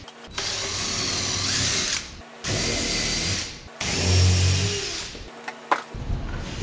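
A power drill whirs through wooden blocks in three short bursts separated by brief pauses, followed by a few clicks and a quieter final spin.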